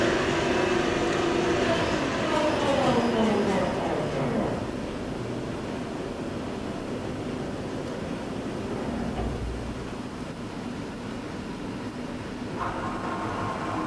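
A 2012 Milltronics ML35/120 lathe runs its Z-axis at 300 RPM, a loud, steady mechanical whir and hum close by, with a drive tone sweeping downward early on before settling into a constant drone.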